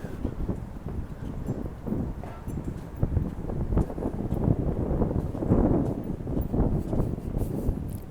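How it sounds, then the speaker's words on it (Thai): Strong wind blows outdoors in Stockholm, a loud continuous rushing roar buffeting the microphone, with gusts swelling and easing across the whole stretch. "ลมแรงได้อีก"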